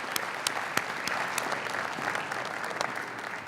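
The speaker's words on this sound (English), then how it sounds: "Please, let's give them a round of applause." A room full of guests at a chamber of commerce anniversary awards luncheon gives the mayor and county commissioners a round of applause, with dense, steady clapping that fills the space at close range.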